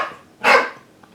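A single dog bark, short and sharp, close and fairly loud, standing alone against a quiet background.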